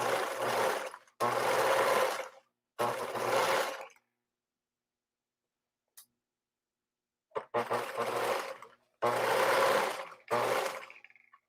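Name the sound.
sewing machine stitching fabric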